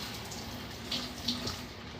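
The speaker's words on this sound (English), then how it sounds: "Then you rinse off your tongs." Kitchen tongs rinsed under a running tap, a soft, steady stream of water with a few faint clinks and splashes, quiet and close, no speech.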